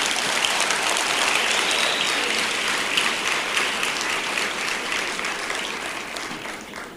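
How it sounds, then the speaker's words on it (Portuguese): A church congregation applauding for Jesus, dense sustained clapping that fills the hall and slowly thins toward the end, with no voices over it. "aplauda o Senhor Jesus"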